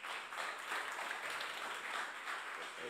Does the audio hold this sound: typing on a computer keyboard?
no